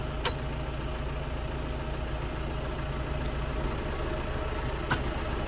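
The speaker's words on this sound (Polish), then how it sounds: "kombajn pomału podjeżdża" A steady, low engine drone of an approaching combine harvester runs throughout, fairly constant in level, with a couple of brief clicks standing out.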